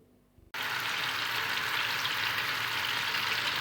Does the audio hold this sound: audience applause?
no